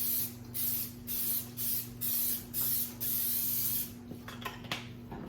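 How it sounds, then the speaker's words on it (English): Cooking spray misted onto a baking dish: five or six short hissing bursts in a steady rhythm, close and clear over a faint kitchen hum, followed by a few light taps. "I'm going to spray my baking dish with just a little bit of cooking spray"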